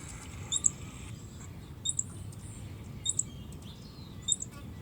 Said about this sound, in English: Ground squirrels do chirp, and we have a lot of ground squirrels around here. And they have this little chirp,